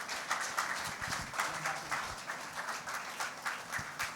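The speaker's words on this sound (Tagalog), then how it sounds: "Isa pong malakas na palakpak ng pagsamba sa ating pong Panginoon." A Filipino church congregation claps in worship to the Lord, steady and rhythmic, moderately distant and without talk.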